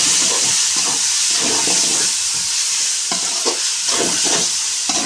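Potato fry with coriander stirred in a hot pan, a loud steady sizzle with hiss and repeated scraping and stirring strokes close up, with no talking.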